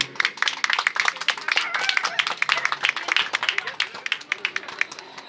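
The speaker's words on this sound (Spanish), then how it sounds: "Les pido un fuerte aplauso para nuestro profesor." An audience at a law faculty gives their professor a burst of applause, dense overlapping claps rattling on for several seconds with voices mixed in underneath.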